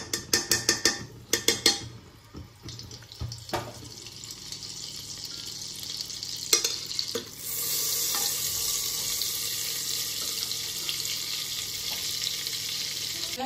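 Oil and a spoon of butter sizzling in a pan for chicken biryani, opening with clattering knocks and stirring noises before settling into a steady, loud frying hiss.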